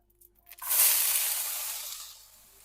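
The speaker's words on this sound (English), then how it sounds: "Fry the pepper." Pepper hitting a hot frying pan bursts into a loud, close sizzle that starts abruptly and then slowly fades into a steady, softening hiss.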